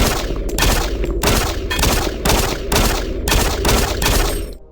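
Pistol shots in Doom 3, five or six loud, booming reports fired at a steady rhythm about once every half second to second, each with a short echoing tail, and no talking over them.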